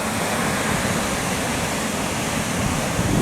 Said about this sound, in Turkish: Dalgaları, suyun köpükleri, köpük köpük sular insanın duygularını okşar.